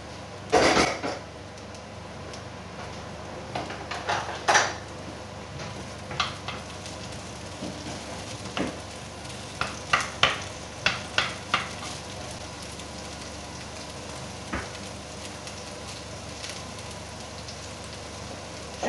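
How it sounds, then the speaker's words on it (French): Vegetables for Chinese noodles roasting in hot oil, with a steady low sizzle throughout and scattered sharper crackles and pops, a few louder spatters near the start and mid-clip, no talking. "Dès que l'huile est chaude, on met à rôtir tous nos légumes."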